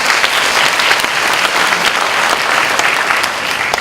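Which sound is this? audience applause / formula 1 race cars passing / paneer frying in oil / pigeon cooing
audience applause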